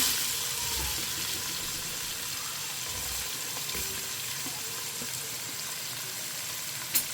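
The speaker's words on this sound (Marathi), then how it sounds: "सो कांद्यानी आमकां 1-2 मिनटांनी म्हाका बरें फ्राय करून घेवया." Chopped onions for prawn pulao fry in a hot pan, giving a steady, even sizzle close by with a faint clink near the end and no talking.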